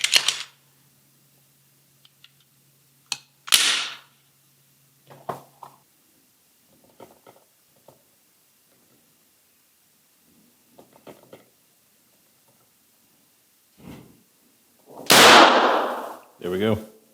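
Glock 19 Gen 5 pistol goes off without a trigger pull. Scattered soft clicks and handling noises lead up to one loud, sharp report near the end.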